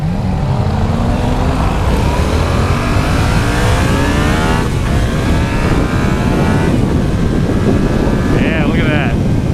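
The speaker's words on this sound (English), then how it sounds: "This engine is so smooth. It's silky, man." Yamaha MT-07 motorcycle engine pulling hard under acceleration, rising harmonic whine climbing steadily with heavy wind buffeting the microphone throughout, loud and close for most of the run.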